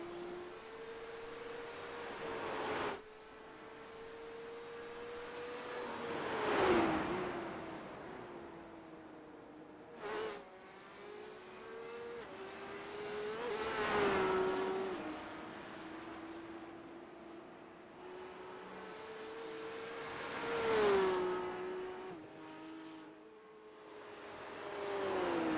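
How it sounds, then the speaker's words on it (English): A Porsche Cup car's flat-six engine in a sim racing game at Mount Panorama, loud and close, revving up through the gears with rising pitch, dropping sharply on each shift and braking, in several repeated acceleration bursts with no talk. "Here you can listen to the wonderful flat 6 engine."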